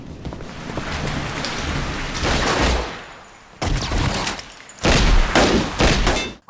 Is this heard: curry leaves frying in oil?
no